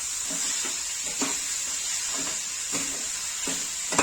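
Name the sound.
sautéing jaggery modak filling in a pan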